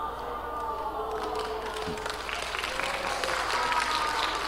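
A church congregation at a Korean Sunday worship service claps along, a dense wash of hand claps that swells and continues steadily, with some room noise mixed in.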